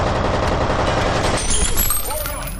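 Rapid automatic gunfire from the horror shooter F.E.A.R., loud and sustained in dense bursts, with brief spoken voices surfacing in the second half.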